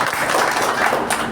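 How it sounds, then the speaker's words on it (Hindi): A brief burst of dense crowd clapping at an OBC Mahasabha honour ceremony, loud and steady throughout with no gaps. "एक जोरदार तालियां"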